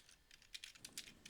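Typing on a computer keyboard, a quick run of faint, close key clicks in an irregular rhythm with no voices over them.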